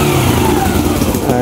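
Motorcycle engine running just after being kick-started, a close, loud, mid-pitched putter with slight rising revs throughout.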